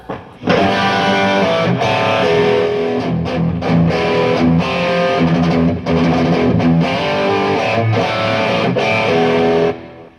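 Heavily distorted electric guitar chugs out a dense rhythm riff, loud and continuous, with brief pauses between chord hits.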